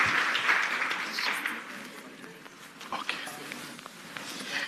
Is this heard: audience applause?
yes